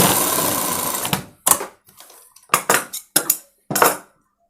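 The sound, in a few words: sewing machine stitching school uniform coat collar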